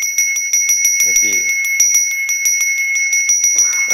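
A priest's hand bell, a genta, rings in rapid continuous shakes, bright and near, while someone speaks briefly beneath it.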